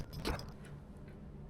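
A 2mm wrench works at the squirrel-cage fan wheel of a Propex HS2800 heater, giving one sharp metallic clink followed by a few faint, light taps in quiet surroundings.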